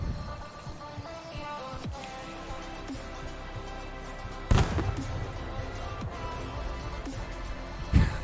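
Grenade explosions in a tactical shooter video game: two sudden sharp bursts several seconds apart over a steady hum of game ambience and music, the second landing near the end.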